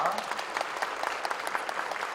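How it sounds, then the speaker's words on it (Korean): A church congregation at an ordination thanksgiving service claps for newly appointed deaconesses, a dense, even burst of applause filling the room for a couple of seconds. "그럼 박수로 격려해 주시기 바랍니다."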